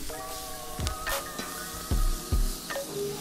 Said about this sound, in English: Right over the fire is the best way to have a steak